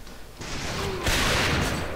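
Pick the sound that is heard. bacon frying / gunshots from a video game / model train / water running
gunshots from a video game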